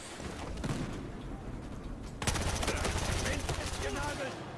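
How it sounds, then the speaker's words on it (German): Gunfire and explosions in Battlefield Hardline: dense rapid automatic fire with a sharp loud blast around the midpoint, then continuing rattling bursts and booms over a low rumble. "jetzt explodiert auch noch alles."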